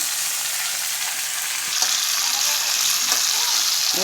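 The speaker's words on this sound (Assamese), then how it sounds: "মাছ দি গোটেই মাছখিনি এনেকৈ লৰাই দিম" Pieces of fried fish are stirred in hot oil in a pan for a mustard fish curry, giving a loud, continuous sizzling hiss with occasional soft scraping as they are moved about.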